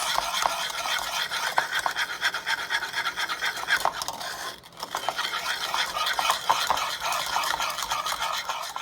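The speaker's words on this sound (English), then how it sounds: "So I'm gonna show you guys how I whisk." Instant coffee whisked by hand in a bowl for whipped coffee, a fast continuous scratchy rasping with a brief pause midway before the brisk whisking resumes, close and fairly loud.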